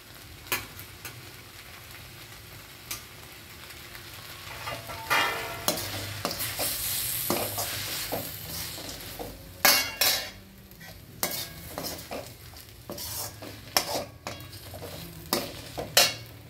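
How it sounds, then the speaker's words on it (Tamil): Carrot and brinjal sauté in a pan for vegetable chutney, with a soft constant sizzle and repeated scraping and clinking strokes of a utensil that grow louder and more frequent in the second half, and no voices. "இப்போ பாருங்கள், நல்லா வதங்கிடுச்சு"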